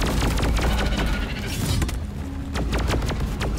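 The sludge pump weapon fires in the video game Deep Rock Galactic, a string of heavy booming blasts and thuds in irregular bursts, loud and close, with sharp cracking hits between them.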